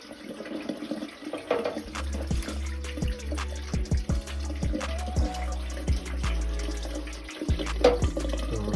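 Water from a drained hot water heater pours through a diverter into a floor drain, a steady close splashing gush with intermittent gurgling surges throughout.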